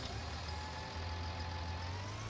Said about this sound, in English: we're going to hop into our case tractor here